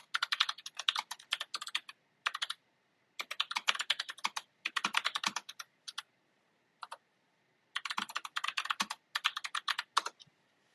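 Someone types on a computer keyboard, producing close, crisp bursts of rapid key clicks separated by short pauses, with no voices.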